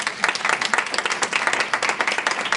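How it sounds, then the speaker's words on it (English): Lively audience applause at an organisation's 30th anniversary celebration, honouring the anniversary committee, with dense, rapid clapping from a crowd, close and loud, sustained for a few seconds without speech. "You should give them a big applause."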